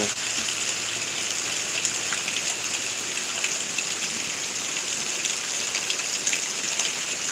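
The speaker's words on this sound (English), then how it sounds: "it might be lighter rain" Light rain falls steadily, a continuous soft hiss of drops with occasional louder patters, and no other sounds.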